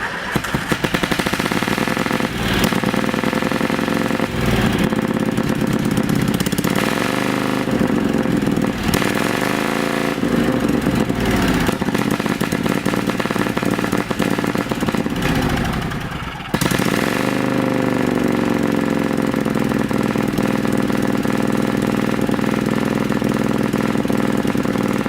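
A small engine with exhaust leaks runs loud and close with sharp, rapid popping and sputtering, revving up and down a few times before settling.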